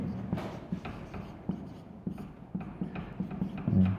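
Chalk or marker scratches across a board in short strokes, producing soft repeated scraping taps at an uneven rhythm close by.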